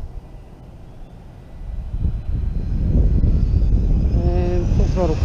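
An Arrma Limitless RC car on a 6s setup goes to full throttle on a speed run, its motor whine swelling from a low rumble into a loud, steady high-pitched buzz that keeps rising in pitch over a few seconds.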